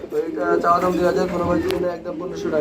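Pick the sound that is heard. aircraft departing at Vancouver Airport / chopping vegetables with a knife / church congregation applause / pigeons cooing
pigeons cooing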